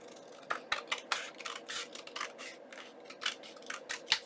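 Scissors trimming a book page for a junk journal, a run of close, crisp snipping strokes in an uneven rhythm, each cut sharp and distinct against a quiet background.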